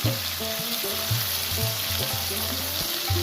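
Cut cauliflower stems frying in a pan of Bengali cauliflower stem curry (chorchori), a steady close sizzle with scraping stirs and clanks of a utensil against the pan throughout, no voices.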